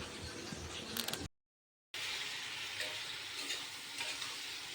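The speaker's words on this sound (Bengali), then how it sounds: "আলু ফুলকপি সমস্ত মশলা দিয়ে এখানে মশলা কষাচ্ছি" Potato and cauliflower with spices frying and being stirred in a pan, a steady close sizzle with brief stirring scrapes and a short gap partway through.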